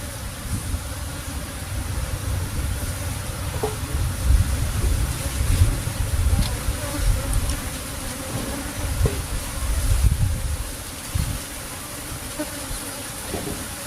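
Bees being moved from a trap box into a cultivation box outdoors, a dense steady buzzing swarm close by with low rumbling handling noise and faint background sounds underneath.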